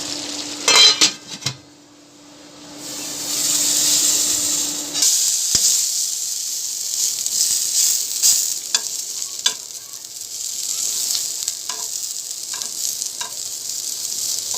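Pabda fish fries in a home kitchen pan with a steady hiss of sizzling oil, broken by a few clinks and scrapes of a utensil stirring and turning the fish, close and fairly loud.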